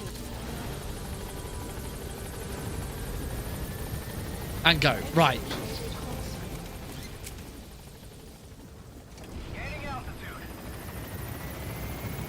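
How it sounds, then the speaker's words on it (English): A support helicopter arriving at a landing zone in Metal Gear Solid V: The Phantom Pain, rotor drone steady underneath while someone talks over it and brief gunfire-like bursts pop midway. "Landing zone support helicopter requested."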